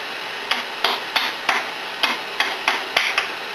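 Sharp metallic taps ring out in a steady series of about eight hits while a snap ring is seated on a gear housing, each one close and crisp with a short decay and no talking.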